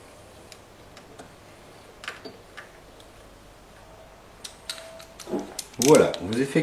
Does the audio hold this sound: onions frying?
no